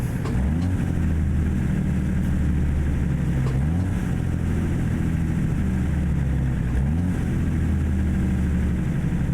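A heavy logging truck engine in American Truck Simulator, loud and droning as it runs in low range, its pitch dropping and rising repeatedly through a series of downshifts, steady and continuous throughout.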